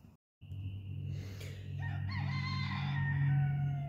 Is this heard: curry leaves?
no